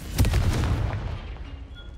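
Confringo fire blast spell cast in the Hogwarts Legacy video game, a single booming burst with a low rumbling tail that fades over about two seconds.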